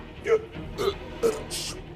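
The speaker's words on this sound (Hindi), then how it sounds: "धीरे से डकार ले, कोई सुन लेगा।" A man belches after a full, tasty meal in a grand palace-like home in a Hindi TV drama. Three short, close throaty burps come about half a second apart, followed by a brief higher hiss.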